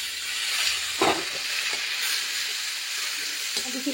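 Chopped onion, ginger paste, cloves, cardamom, cinnamon and bay leaf frying in hot oil in a home kitchen, a steady bright sizzle and hiss with a few stirring clatters, close and continuous.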